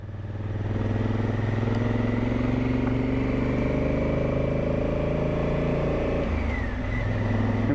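A motorcycle rides along a destroyed road of loose gravel and sand, its engine a loud, steady close drone with a brief dip and shift in pitch near the end, with no talk.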